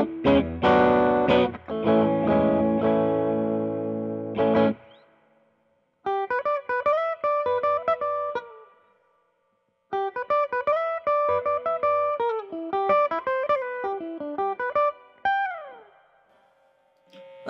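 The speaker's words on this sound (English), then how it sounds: "I'm gonna go to the middle and bridge position, and we're gonna hear that one now without the boost." Music Man Cutlass HT electric guitar on the middle and bridge pickups, unboosted, rings out loud strummed chords, then plays picked single-note riffs in phrases separated by short pauses, with a slightly driven amp tone and no talking.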